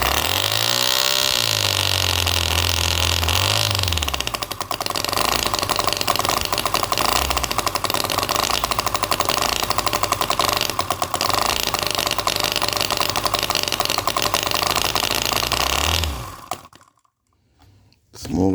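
An OKMO R32 Harley Davidson Shovelhead miniature petrol engine being run in, a loud, continuous buzzing drone that revs up and settles early, then runs steadily for a long stretch before cutting out near the end.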